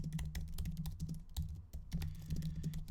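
Rapid clicking on a computer keyboard as someone types a note, a close, steady patter of keystrokes with brief pauses between bursts.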